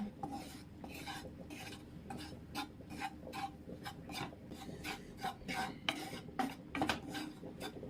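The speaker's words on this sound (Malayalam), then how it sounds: "എണ്ണയൊന്നും ഒഴിക്കാതെ തന്നെ ഇത് മൂപ്പിച്ചെടുക്കാൻ കരിഞ്ഞു പോകാതെ ഇങ്ങനെ വറുത്തെടുക്കുമ്പോൾ" Repeated dry scraping and stirring of spice powders roasting without oil over a low flame, rhythmic rasping strokes up close, with soft clinks of a utensil against metal.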